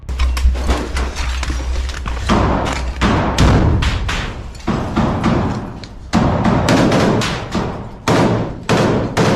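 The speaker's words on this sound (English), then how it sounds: "Inside, a violent clash breaks out, with grenades being used during the engagement." A rapid series of loud, sharp blasts and heavy thuds echo through an indoor combat clash between Ukrainian and Russian troops using grenades, with impacts following each other closely for several seconds and no speech.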